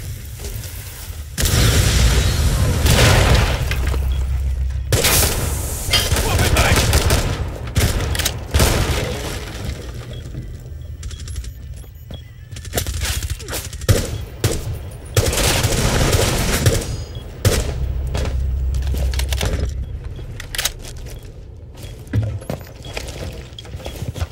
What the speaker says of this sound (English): Cluster charge deployed. Cluster charge going live.